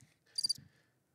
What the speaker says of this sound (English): Now, that's the sound of crickets.